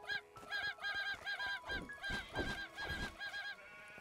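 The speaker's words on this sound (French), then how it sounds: "On va tuer du mouton" Sheep in the video game Craftopia bleat in a rapid string of nasal, honking calls that repeat rhythmically and overlap near the end, loud and close with no talk.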